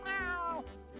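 A close, clear cat meow in a SpongeBob Battle for Bikini Bottom video game, a single drawn-out falling cry followed by a short softer call.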